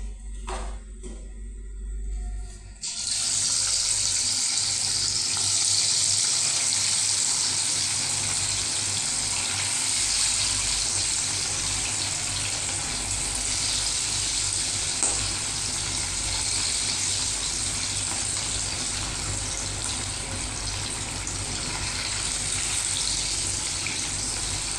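Chicken pieces for a chicken chaps curry frying in hot oil, a steady loud sizzle that starts abruptly after a quiet moment and keeps going, close up and with no talk over it.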